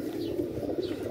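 Soft, steady cooing from a high flyer pigeon, a low murmuring drone that runs close and continuous with no talk over it.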